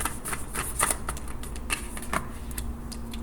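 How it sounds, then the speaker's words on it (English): Tarot cards shuffled by hand in a quick burst of papery riffles and sharp snapping clicks, fairly close and steady for a few seconds, with no talking. "We'll do a quick shuffle."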